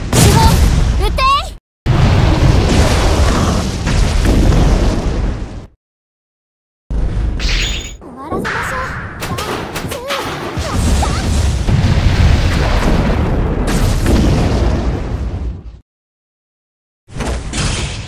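Heavy gunfire and explosions in the game Abyss Horizon, loud booming blasts and bursts in long stretches separated by short silences, with voices speaking over the barrage.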